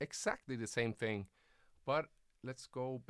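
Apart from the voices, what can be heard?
No everyday noises stand out.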